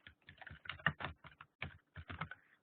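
Quick, close typing on a computer keyboard while entering a message into a chat, a steady run of soft clattering keystrokes in short irregular bursts with brief pauses, with no voices.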